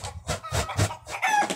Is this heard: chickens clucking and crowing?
yes